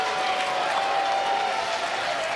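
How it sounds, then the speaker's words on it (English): Crowd noise at a Little League World Series championship baseball game as a batter comes up, a steady wash of cheering and clapping with a faint tone running through it. "you can hear the crowd recognize who is coming up"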